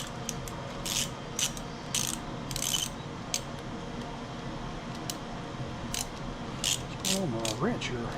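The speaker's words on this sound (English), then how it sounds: "Let me grab a wrench to see if those screws are loose." A wrench ratcheting and tightening screws on an Ariens 42-inch riding mower with a Briggs and Stratton PowerBuilt engine, a series of short metallic clicks and scrapes in irregular bursts over a low background hum.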